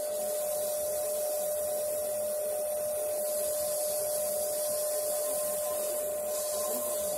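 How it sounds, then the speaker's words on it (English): Steady abrasive rubbing of sandpaper against a sycamore bowl spinning on a wood lathe, a continuous even hiss with a constant motor hum underneath, close and uninterrupted for the whole stretch. "So back to sanding. Now, I am going to be putting ebonizing lacquer on this, so I'm going to be going up to 400 grit."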